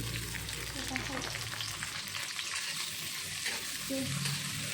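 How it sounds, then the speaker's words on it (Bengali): Onion and garlic fry in oil with a dense, continuous sizzle and crackle, close and steady, with occasional faint background voices under it. "এই যে পেঁয়াজ রসুন বেজে নিতেছি তেলে দিয়া"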